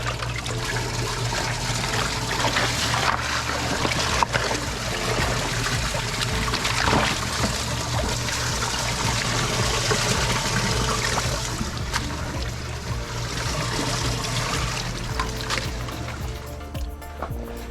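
Water flushed through a pondless water feature to wash out debris during a pond cleaning, a steady rushing and gurgling flow that runs continuously at close range with no talk.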